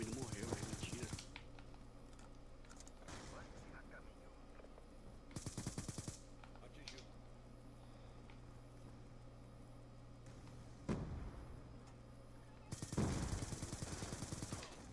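Gunfire from the video game Black Ops II comes in several short, loud bursts of rapid shots, separated by quieter stretches of steady game background hum.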